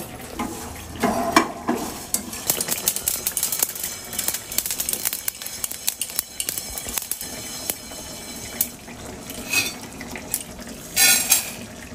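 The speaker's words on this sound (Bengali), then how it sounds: "ধনে জিরে দারুচিনি এলাচ লবঙ্গ একসঙ্গে ভেজে নেব" Crackling sizzle of whole coriander, cumin, cinnamon, cardamom and cloves frying in a hot pan, with intermittent stirring scrapes and a few louder spattering bursts, close by and steady throughout.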